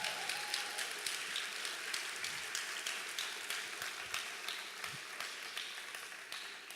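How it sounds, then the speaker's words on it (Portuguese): A church congregation claps together in a soft, sustained round of applause that sounds somewhat distant and gradually tapers toward the end. "Pode aplaudir, irmão."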